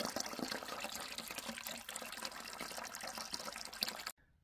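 Water pouring out of a pipe from a 12 volt submersible deep well solar pump, an Eco-Worthy unit: a close, steady splashing gush with bubbly trickling that runs continuously, then cuts off abruptly just before the end.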